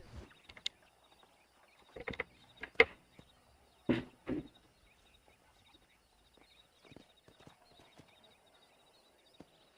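Scattered horse hoof clops on a hard surface in Red Dead Redemption, a few loud clusters of hits and then quieter, irregular steps against a faint steady background.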